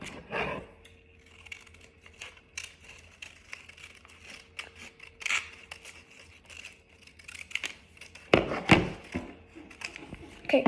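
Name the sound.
scissors cutting paper for origami cube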